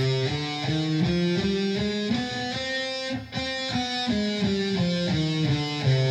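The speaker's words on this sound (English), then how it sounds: "that's the harmonic minor scale" A guitar plays a steady run of single notes stepping up and back down a harmonic minor scale, clear and close, with no talking.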